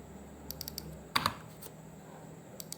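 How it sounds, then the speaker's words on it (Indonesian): A name typed on a computer keyboard into a search field, heard as a short run of light key clicks followed by a couple of louder taps, close and quiet with no talk. "Misal kita ketik Gimra di sini, langsung otomatis melakukan query."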